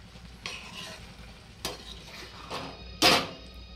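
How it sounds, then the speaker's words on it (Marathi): Carrot halwa with khoa being stirred in a pan: a soft background hiss broken by three or four distinct scraping strokes of a spoon against metal, the last one loudest, close by. "आता हे चांगलं एकजीव मिक्स करून द्यायचं"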